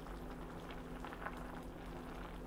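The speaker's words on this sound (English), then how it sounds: "the broth has reduced after that 30 minutes of boiling" A pot of Korean spicy beef and radish soup broth simmers at a quiet, steady boil with soft continuous bubbling, close by and alone.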